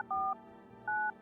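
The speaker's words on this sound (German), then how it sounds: "Jetzt kann ich hier noch telefonieren." Telephone dialing tones in a video game: two clean, steady DTMF beeps, each lasting about a quarter second, separated by a short gap over a faint background hum.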